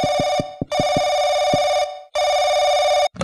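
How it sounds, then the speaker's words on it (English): Telephone ringing loudly in the horror game Paranoiac, bright repeated bell bursts in long sustained rings with brief gaps, sharp thumps under the first ring, close and piercing with no talk. "Why is the phone so loud?"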